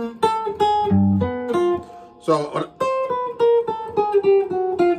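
Guitar plays a short descending chromatic pattern of distinct single notes, close and clear, with a brief bend-like smear in the middle and a quick spoken word near the end.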